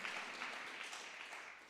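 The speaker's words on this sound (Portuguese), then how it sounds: "Vamos aplaudir Jesus." A church congregation applauding, a dense steady wash of many hands clapping, faint and somewhat distant, fading slightly at the end.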